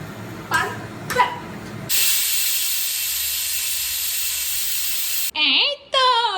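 A pressure cooker cooking egg biryani lets out a loud, steady jet of steam hiss for about three seconds, preceded by a couple of light knocks and followed by brief tonal sounds.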